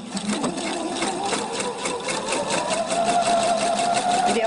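A Husqvarna Viking sewing machine runs steadily at close range, its rapid needle strokes forming a continuous even buzz with a rising whine toward the end, alone without talk.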